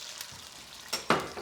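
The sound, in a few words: white wine added to sizzling tomato garlic sauce in pan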